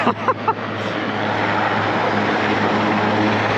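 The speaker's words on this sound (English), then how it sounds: "there's a heliport on the other side of this hedge. And it's taking off time." Steady, loud rotor and engine roar of a nearby helicopter taking off from a heliport, with a few brief thumps at the start before the drone settles in.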